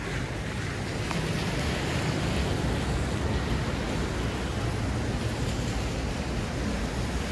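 Steady rushing water and wind noise fill the whole stretch, a broad continuous wash like waves surging against and into a small boat.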